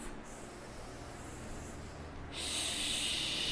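Slow, deep yoga warm-up breaths drawn in and pushed out as big hissing exhales, close and breathy with no talking, the final exhale louder and airier.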